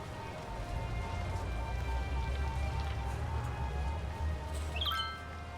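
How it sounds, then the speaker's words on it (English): Steady rain hisses over a rainy city in the Cities: Skylines simulation game, a continuous dense wash of drops with low city rumble underneath and a brief chirp near the end. "This is the city in the rain."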